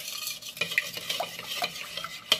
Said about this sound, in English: So mix all that up.